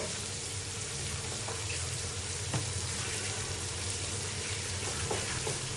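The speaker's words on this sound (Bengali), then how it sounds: "এক বাটি পেঁয়াজটাকে ভেজে নিচ্ছি" Onion frying in oil with two bay leaves, a steady low sizzle and crackle close by, with faint occasional clicks and no talk over it.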